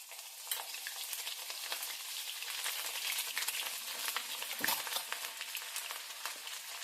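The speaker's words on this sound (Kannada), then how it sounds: "ಇವಾಗ ಎಣ್ಣೆ ಕಾದಿದೆ. ಸ್ವಲ್ಪ ಶುಂಠಿ ತುರಿದು ಇಟ್ಕೊಂಡಿದ್ದೀನಿ," Grated ginger hits hot oil in a pan and fries with a steady close crackling sizzle, one brief louder stir or spatter midway, no voices.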